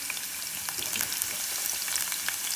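Chopped onion sizzles steadily in hot coconut oil for an egg stew, a dense, bright frying crackle with scattered pops over the whole span and no voices.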